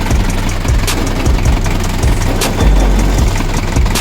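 An RF engine runs on a test start, giving a loud, close, steady rumbling idle with a regular low thumping pulse and occasional sharper knocks throughout.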